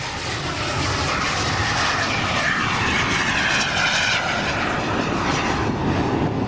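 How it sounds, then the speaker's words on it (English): A T-33 jet at an air show lowering its landing gear, giving a steady, loud, broadband engine roar that holds throughout without breaks, with no talk over it. "T-33 making a military brake, pulling the gear down"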